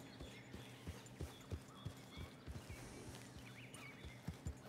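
Hooves clip-clop at a steady walking rhythm in a RedM video game horse dressage test, the even footfalls fairly soft over a light ambient background.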